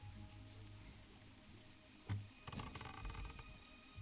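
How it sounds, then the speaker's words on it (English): Rain falling on a surface in a quiet outdoor setting, soft steady patter with a few louder splashes and knocks partway through, no talking. "we're chilling in the rain"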